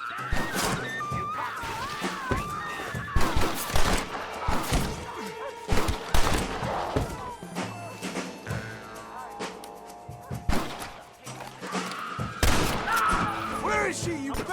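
Gunfire in Red Dead Redemption, with repeated sharp thuds and shots scattered through a tense shootout, mixed with game voices and music; shots come in irregular bursts, some loud and close.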